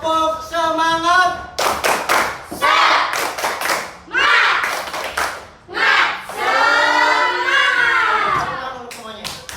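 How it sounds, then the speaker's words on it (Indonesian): Students perform a rhythmic 'tepuk semangat' clapping chant in a classroom, sharp bursts of unison clapping alternating with loud group shouting in a quick patterned sequence. "Coba Bapak baca semangat dulu. Tepuk semangat."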